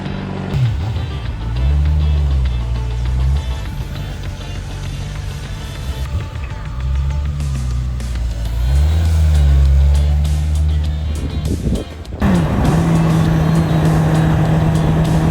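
A Honda CBR600RR 600cc sport bike rides along the road, its engine loud and close as it repeatedly revs up through the gears and eases off, with steady wind rush between throttle pulls.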